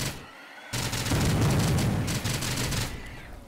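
Machine gun fire in the fast PC shooter STRAFE, a dense, loud, continuous rattle of rapid shots that starts abruptly and runs for a few seconds before easing off, with no talking.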